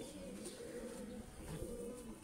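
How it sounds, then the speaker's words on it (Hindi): A pigeon gives soft, low cooing calls that roll on continuously over faint background noise, quiet and somewhat distant, with no voices present. "कबूतर आवाज निकाल रहा है और हर कबूतर नहीं ये काम करता"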